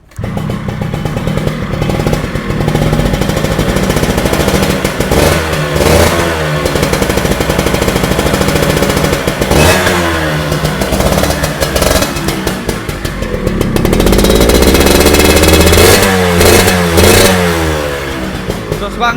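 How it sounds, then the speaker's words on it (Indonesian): A yellow Kawasaki Ninja 250 FI motorcycle engine runs loud and close for the whole stretch, idling with repeated throttle blips and revs that rise and fall, swelling strongest near the end. "langsung saja aku cek sonin untuk suara mesinnya ya bang"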